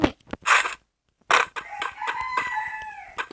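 A rooster crows in a shooter video game, a clear cock-a-doodle-doo following a few sharp game sounds and clucks, mid-distance and distinct.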